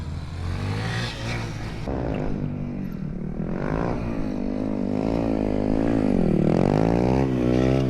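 A Kawasaki Z125 Pro motorcycle engine revs hard during a wheelie, its pitch climbing and falling in waves as the throttle is worked, loud and nearby with no talk.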